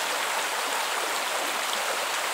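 Creek water at Bluff Creek runs over rocks past vegetation, a steady, even rushing hiss that holds without pause, close and fairly loud.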